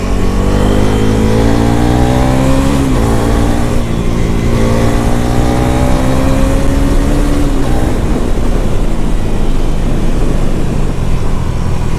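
A Bajaj Pulsar NS400Z motorcycle engine, a 2026 model ridden in sports mode, revs up steadily through the gears in a loud, continuous climb toward the rev limit, with rising whine and no talk.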